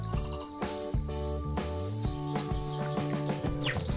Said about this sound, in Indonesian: itu burung perkututnya main-main sama burung dara ini